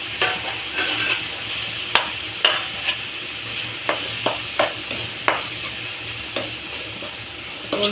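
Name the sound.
stirring mushroom gravy frying in a pan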